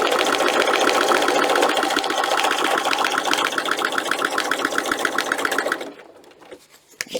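A sewing machine stitches a hem on a custom book protector, running as a fast, steady, close mechanical chatter for about six seconds before stopping abruptly, leaving a faint rustle.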